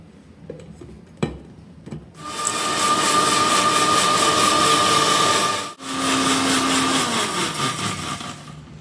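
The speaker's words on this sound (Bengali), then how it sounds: "প্রথমে এখন টমেটোটা বেটে নেব" Mixer grinder blending tomatoes into paste, a few knocks and clatters, then the motor roars up into a loud steady whine, cuts out briefly at about six seconds and starts again.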